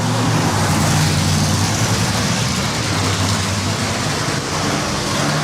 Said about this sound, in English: So we got a car starting, as you can hear it.